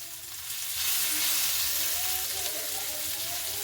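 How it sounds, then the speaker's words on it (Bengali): Cauliflower stalk curry fries in a pan while being stirred, a steady, close, dense sizzle with soft scraping movement and no voices. "নাড়াচাড়া করে নিতে হবে"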